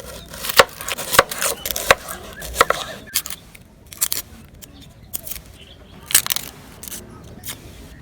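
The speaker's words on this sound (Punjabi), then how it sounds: "ਪਿਆਜ਼ ਨੂੰ ਜਿਹੜਾ ਚੋਪ ਕਟਾਈ ਕਰ ਲਾਂਗੇ।" Onions are chopped with a knife on a board in a village kitchen while pumpkin raita is made, giving a series of sharp knocks, some in quick pairs, close and clear over a low background.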